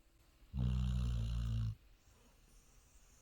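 A dog's single low, rumbling snore swells for about a second against a quiet room on a rainy day, then fades back to soft breathing.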